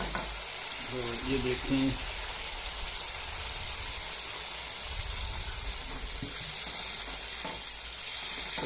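Kofta gravy masala of minced meat and chana dal fries in a pan, a constant dense sizzle and crackle with stirring, while someone speaks briefly near the start.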